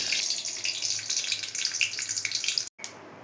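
Raisins frying in ghee in a pan for beetroot halwa give a close, steady, bubbling sizzle with bright crackles and pops that cut off abruptly near the end, then start again.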